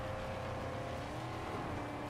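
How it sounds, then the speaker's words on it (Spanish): A car engine in the Mad Max video game gives off a steady, even whine with a sci-fi, spaceship-like hum, droning continuously at moderate volume without breaks. "eso más que un coche parece el sonido de una nave espacial"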